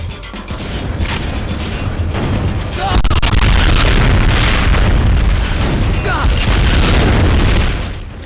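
Missiles and grenades explode in Killer7 as a battle of attrition, a dense, loud, continuous barrage of booms and blasts that swells from about three seconds and holds steady before easing at the end.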